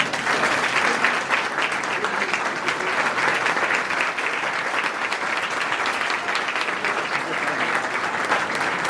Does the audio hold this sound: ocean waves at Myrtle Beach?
no